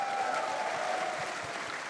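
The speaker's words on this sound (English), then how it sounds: "We're going to give a little round of applause for our character artists here as well who made them come to life." An audience at TennoCon, the Warframe convention, applauds steadily in a hall, a continuous mid-level wash of clapping with a faint tone running beneath it.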